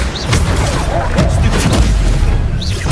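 A Bombarda spell explosion in the wizarding game Hogwarts Legacy sounds as a loud, sustained booming blast with crashing debris and magical whooshes, close and dense throughout.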